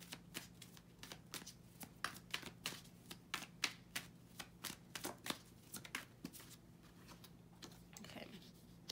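A tarot deck is shuffled close up in a quiet room, a steady run of soft riffling card snaps repeating through the whole stretch with no talk.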